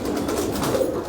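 A pigeon held in the hand gives soft, continuous low cooing throughout, steady and close, with no talking.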